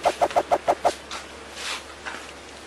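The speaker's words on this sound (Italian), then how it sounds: "io ho le galline, vedete le galline?" A chicken clucks in a quick run of six sharp, evenly spaced notes close by, followed by softer, drawn-out clucking sounds.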